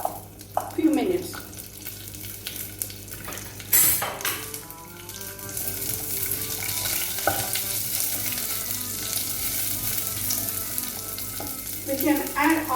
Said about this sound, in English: First we will add shallots and fry for few minutes.